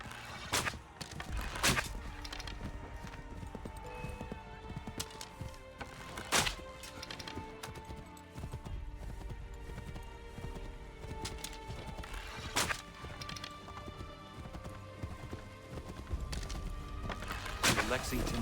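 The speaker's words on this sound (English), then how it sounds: "Get on that horse." A horse in Assassin's Creed 3 rides at a gallop, with rhythmic hoofbeats and an occasional whinny running under game music, sharp impacts and a voice speaking.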